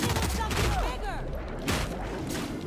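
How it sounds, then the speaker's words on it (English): Enemies explode in a firefight in the video game The Outer Worlds, giving a quick cluster of sharp bursts and booms like rapid gunfire. The bursts are loud and close and come in two clumps within a few seconds. "Oh my god, they're exploding."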